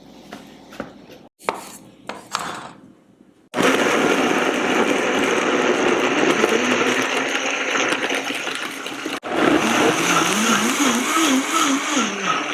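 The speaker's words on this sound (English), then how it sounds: "Everything into the blender." A blender blending chili verde sauce with cilantro whirs loudly and steadily after a few short start-up bursts and clinks, its motor pitch wavering as the contents churn.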